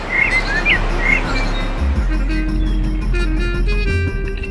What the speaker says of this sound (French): Notre aventurier est bercé par le chant des oiseaux qui lui offre un orchestre des plus harmonieux.